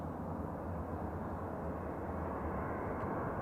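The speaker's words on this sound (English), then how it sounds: "that's the auxiliary power unit, the APU" A Boeing 737 auxiliary power unit runs steadily at Manchester Airport, a continuous loud low droning roar with a broad hum, unbroken and alone throughout.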